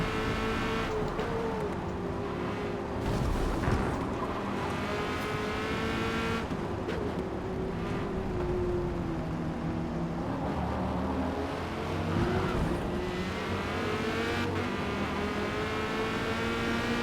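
A Corvette C8.R race car works hard around the Mid-Ohio circuit, its engine winding up to high revs with steady harmonic climbs and dips as it shifts, loud and close throughout.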